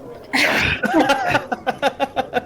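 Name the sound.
sneeze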